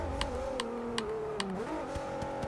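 Infiniti V6 engine in the racing game Forza 6, holding a steady mid-pitched drone that shifts briefly partway through, with sharp periodic clicks over the top.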